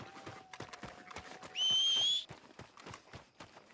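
A horse trots steadily in Red Dead Redemption 2 with regular clip-clop hoofbeats, broken midway by a sharp, high whistle lasting under a second.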